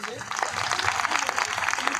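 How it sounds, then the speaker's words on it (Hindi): A crowd at a parish gathering claps loudly and steadily to welcome the MLA, a dense rush of hand claps with voices mixed in. "जोरदार हम लोग विधायक महोदय के लिए जोरदार ताली हम लोग बजा देंगे"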